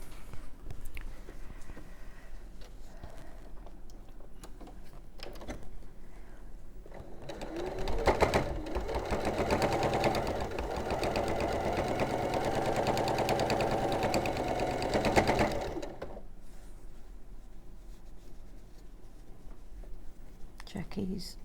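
A domestic sewing machine runs in a steady, continuous whir for several seconds while stitching quilt pieces together, starting and stopping within the clip, with quiet talk around it before and after.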